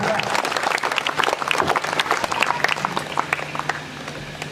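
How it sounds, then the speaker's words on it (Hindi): Dense, steady applause from an audience clapping for the actors of a stage drama, continuous and fairly close, with a voice speaking faintly beneath the clapping. "तालियां बजा दीजिए"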